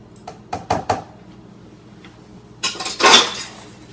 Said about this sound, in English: I should take out the metal blender ball.